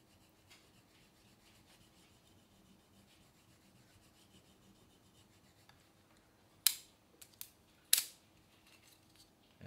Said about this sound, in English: Is trying to kind of score the plastic